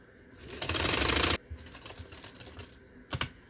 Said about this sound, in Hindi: ये देखो, किनारे पे सिलाई दे के और इसको सारा यहाँ तक ले आऊँ